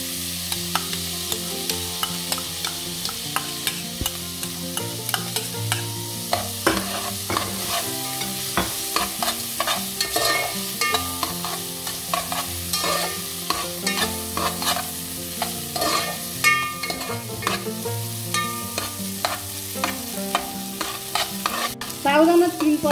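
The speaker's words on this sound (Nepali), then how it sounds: "साबुदानालाई राम्रोसँग भुट्नुपर्छ" Small tapioca pearls being roasted and stirred in a pan, with a continuous dry sizzle and rapid, busy scraping and rattling throughout, close and with no talk.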